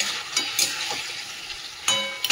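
Curry gravy with fish bones bubbling and sizzling in a pan, with a steady frying hiss broken by a few stirring scrapes.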